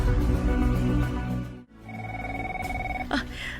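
An old-style telephone bell rings in an Ilocano radio drama, a steady sustained ring lasting about a second that starts after an ambient pause and cuts off abruptly near the end.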